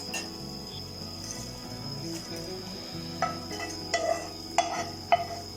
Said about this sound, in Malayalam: ഇതിലേക്ക് ചെമ്മീനും ഇട്ട് കൊടുക്കാം.